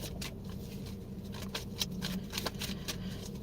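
Tarot cards being shuffled by hand indoors, a series of soft, quick riffling flutters and taps arriving in irregular bursts, close and fairly quiet, with no voice.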